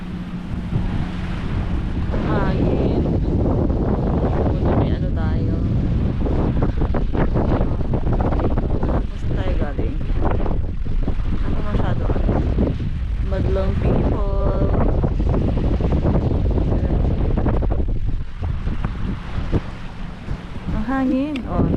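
Strong wind on a beach at Subic Bay, Zambales, roars and buffets the microphone without letup, with a few voices talking faintly underneath the constant gusting.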